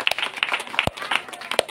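An audience at an evening service during a village church festival breaks into applause, scattered sharp claps merging into a moderate patter at a distance, with faint voices underneath.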